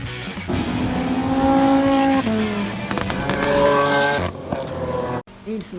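A Mitsubishi Lancer Evo rally sedan roars close and loud, its engine note climbing and falling through the revs with a harsh, raspy edge before cutting off abruptly near the end.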